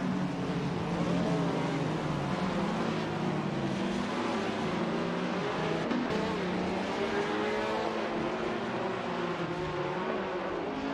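1950s Formula One cars race in a video game, their engines droning loudly and continuously as several cars rev and shift pitch together throughout.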